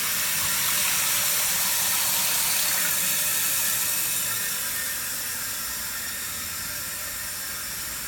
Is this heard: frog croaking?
no